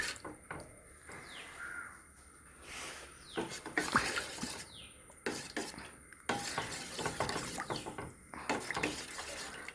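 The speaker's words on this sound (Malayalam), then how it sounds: "അങ്ങനെ ഉണ്ണിയപ്പം ചൂടാൻ തുടങ്ങിയിട്ടോ." Unniyappam made from rice and jaggery batter fries in a pan, giving a quiet, steady sizzle broken by sharp metallic clinks and scrapes of a spoon.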